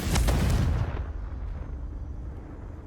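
A Confringo spell explodes in Hogwarts Legacy, a loud booming blast with a crackling burst that fades into a low rumbling tail.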